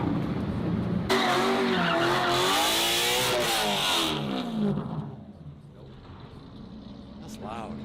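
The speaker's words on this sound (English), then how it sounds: "It does not like doing donuts." A car doing donuts, its engine roaring loud and close with a long squeal of spinning tires, then fading to a lower rumble; a voice speaks over it.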